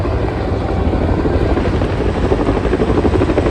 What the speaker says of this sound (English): It's pretty cool helicopter formation.